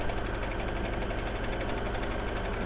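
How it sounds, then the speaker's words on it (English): Sewing machine stitching the shoulder seams of a quilted jacket, running at an even speed with a fast, steady mechanical whir and rapid needle rhythm, close and alone. "I'm going to stitch the 2 shoulder seams together"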